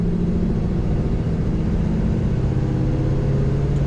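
A 1940 Ford Deluxe Convertible pulling away and accelerating, its engine giving a steady, close, smooth running hum with a faint rising note and no talk over it.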